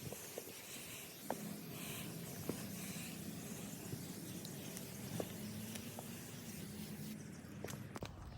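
A steady, soft hiss of foam cleaner being sprayed onto a Tesla's flat surfaces runs throughout, with scattered light clicks and taps in the background and no talking.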